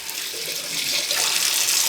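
Warm water from a tap pours steadily into a deep sink to soak dishes, a close, loud rushing stream that grows slightly fuller as the basin fills.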